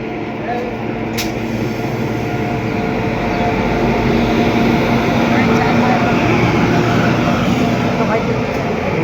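The Netaji Express, the Howrah–Kalka train, rolls past with a steady, loud rumble and rattle of wheels and carriages that builds slightly and holds, with a faint voice near the start.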